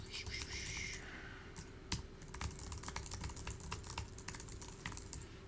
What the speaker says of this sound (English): what I do is I just basically type in a bunch of letters